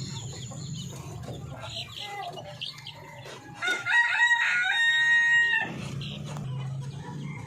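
Darag native chickens and chicks in a coop, with clucking, chick peeping and a loud rooster crow in the middle, close and busy throughout.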